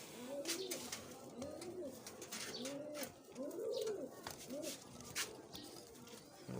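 Pigeons coo repeatedly in soft, rolling phrases, fairly close, with a few sharp knocks and rustles in between.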